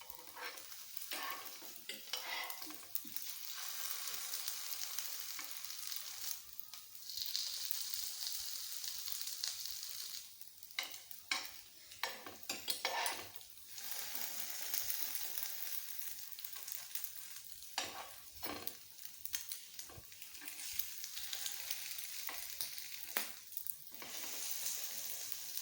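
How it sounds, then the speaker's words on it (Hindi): Eggs cooking in a pan for a potato sandwich, with a constant soft sizzle and repeated scraping and stirring strokes coming in bursts, close but low in level throughout. "ऐसे इस तरह करके भी हम अंडे को जो है पका लेंगे ताकि कहीं से कच्चापन ना रह जाए।"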